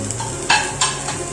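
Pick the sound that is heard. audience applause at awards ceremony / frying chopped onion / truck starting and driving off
frying chopped onion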